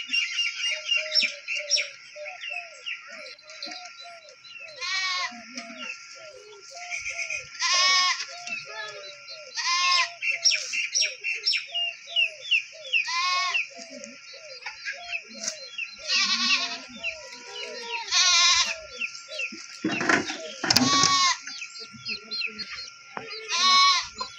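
A herd of goats bleats repeatedly at feeding time as fodder grass is put out, with wavering cries coming in overlapping bursts alongside steady bird chirping in the background.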